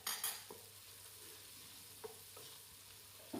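Onions, chilies and garlic frying in a pan while being stirred, giving a quiet, steady sizzle broken by a few soft scraping knocks of the spoon against the pan.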